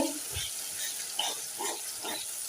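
Masala paste with chili powder, salt, cardamom and cinnamon being sautéed in a pan, giving a steady close sizzle and hiss with soft stirring scrapes throughout.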